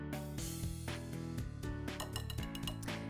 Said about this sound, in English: We'll give these a quick whisk.